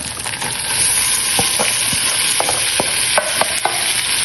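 Ingredients stirred in heated oil for a Sri Lankan black coconut fish curry, a close, steady sizzle punctuated by sharp spoon scrapes and clinks against the pan.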